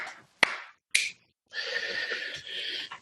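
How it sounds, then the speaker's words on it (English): Two sharp, close hand claps a half-second apart, each with a short bright ring, made to sync an audio recording, followed by a burst of hissy, crackly noise. "We do a couple of claps."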